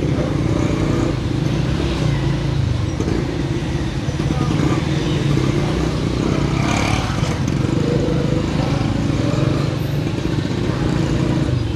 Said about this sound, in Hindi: ये देखें शोर बहुत ज़्यादा, मोटरसाइकिलों का, गाड़ियों का, ये जो रिक्शा वगैरह है इनका तो बहुत ही ज़्यादा होता है।